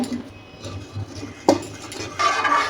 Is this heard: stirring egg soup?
yes